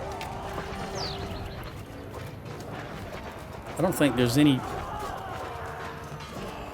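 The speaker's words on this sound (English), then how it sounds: "my useless horse runs off." A horse in the video game Mount & Blade II Bannerlord runs off during a siege battle, its hooves clopping amid busy battle noise, with a brief louder burst partway through and someone talking over it throughout.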